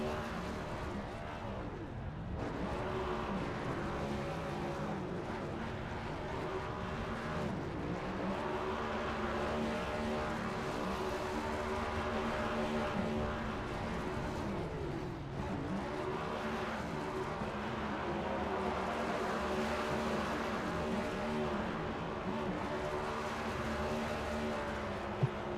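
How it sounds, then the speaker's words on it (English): Race cars in the iRacing video game do burnouts at Daytona, giving a continuous loud engine roar with wavering revs and tire noise that holds for the whole stretch. "A lot of burnouts going on."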